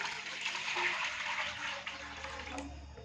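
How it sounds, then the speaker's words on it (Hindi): About three to four cups of water pour into a kadai to start a moong and masoor dal. The water splashes in a steady, gushing stream close by, easing slightly toward the end. "मूंग मसूर मिक्स दाल तड़का बनाने के लिए सबसे पहले हम कढ़ाई के अंदर तकरीबन 3 से 4 कप पानी डालेंगे।"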